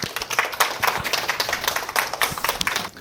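An audience applauds to welcome a tenor at a small Korean hall event, with dense, steady hand clapping close by that rises and falls for a few seconds without talk.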